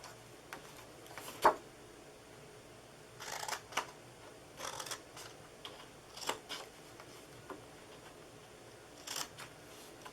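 Card stock being cut for the bottom flaps of a handmade card box: quiet, close snips and crisp paper rustles come in short scattered bursts against a near-silent room.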